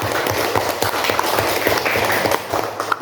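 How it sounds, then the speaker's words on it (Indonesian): Schoolchildren in a classroom clap for a classmate: a dense burst of quick, uneven hand claps that stays steady and close throughout, with a few sharper slaps near the end. "tepuk tangan untuk kawannya"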